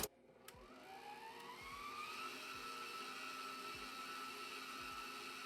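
An electric hand mixer whirs steadily through chocolate pound cake batter made with crème bouquet flavoring, cocoa powder and pudding mix, a continuous motor hum rising in pitch after it starts, with occasional soft knocks of the beaters against the bowl.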